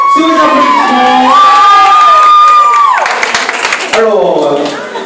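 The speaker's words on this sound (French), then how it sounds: "Sous vos applaudissements, les candidats de l'Ouest et du Sud" Crowd at the Miss Prestige Réunion 2018 pageant parade applauding and cheering for the candidates, loud sustained clapping with whoops and high shouts, while an amplified voice rings out over the noise.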